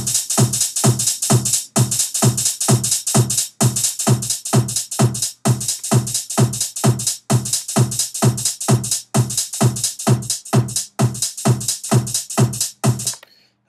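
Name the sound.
hi-hat pattern quantized to 16E, Logic EXS24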